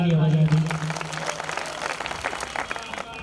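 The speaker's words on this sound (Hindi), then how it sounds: "हमारे सभी श्याम प्रेमियों के लिए, हमारे बड़े भाइयों के लिए जोरदार तालियां बजा दें।" A crowd at a devotional bhajan evening for Baba Khatu Shyam breaks into applause: dense, sustained clapping that follows a brief tonal sound at the start and continues steadily at a moderate level throughout.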